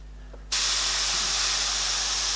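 An airbrush sprays paint onto a sealer-coated board: after a brief quiet moment, a loud, steady, close hiss of air starts abruptly and runs on without a break.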